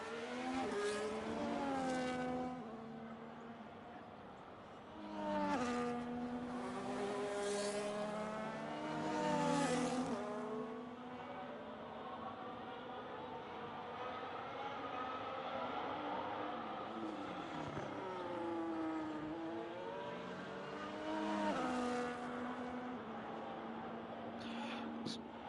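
Race car laps the China circuit in a racing video game, its engine whining up and down through repeated gear shifts and revs, loud and continuous across the run, with someone commentating over it.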